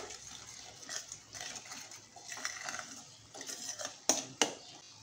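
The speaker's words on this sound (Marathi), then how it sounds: "छान असं आपण मिक्स करून घेऊया." Spices and chilli powder stirred into ridge gourd in a cooking pan, with soft continuous scraping and two sharper metallic clinks of a spoon against the pan near the end.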